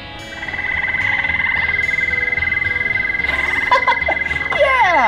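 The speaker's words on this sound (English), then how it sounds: "Yeah, that's the toad." A toad's croak from a playground sound button rings out as a steady, loud, buzzing trill lasting several seconds, with a few brief higher chirps near the end.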